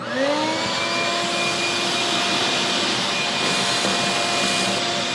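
A vacuum sucking up blister beetles in a garden, a loud steady motor whine with a rising pitch at start-up, then sustained airflow roar, close and continuous without talk.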